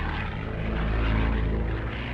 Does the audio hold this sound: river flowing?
no